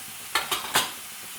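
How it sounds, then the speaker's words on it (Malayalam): Onion, ginger and garlic sautéing in a pan, with three quick scraping stirs over a faint, steady sizzle, close and clear. "1 മിനിറ്റ് ഒന്ന് ഇതുപോലെ ഒന്ന് വഴറ്റിയെടുക്കുന്നുണ്ട്"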